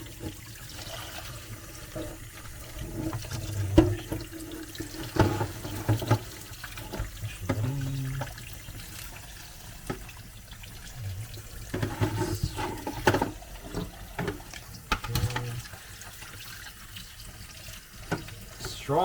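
Tap water runs steadily over a live lobster held under a faucet before cooking, a continuous splashing stream with irregular thumps and handling noises, and people talk briefly in the background.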